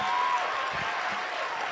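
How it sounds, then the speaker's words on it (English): Audience applause at a live Ignite Seattle speaker event, a short continuous wash of many hands clapping at steady volume, close and fairly loud, with no clear voices. "A round of applause for all of them, please."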